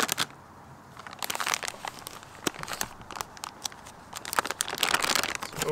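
Plastic packaging for Tacoma brackets crinkles and crackles up close as it is handled and pulled open, a busy run of irregular sharp rustles that grows denser and louder toward the end.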